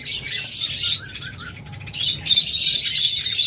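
A pair of lutino lovebirds chirps in a cage, giving dense, continuous high-pitched chattering and squawks at close range that swell louder in the second half, with no voices.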